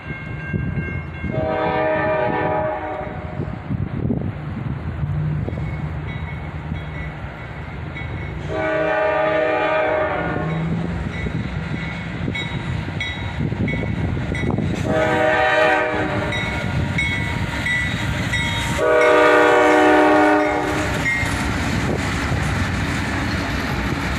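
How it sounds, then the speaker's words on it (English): A freight train led by three AC44CW locomotives, with a flared-radiator SD70MAC trailing, sounds its horn in four loud blasts over a continuous heavy rumble of passing cars. "3 AC44 CWs, 2 in the Y&2 paint scheme, and the trailing unit is a flared Radiator Sd70mac."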